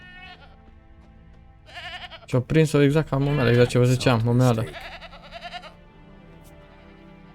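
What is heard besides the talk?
goat bleating in The Witcher 3 video game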